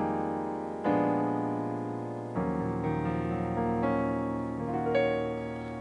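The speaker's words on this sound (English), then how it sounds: "and then you also have a closed voice chords that may sound something like this." Closed-voiced 2-5-1 gospel and pop chord progression, three sustained keyboard chords struck in turn, each ringing out full and close with no talk.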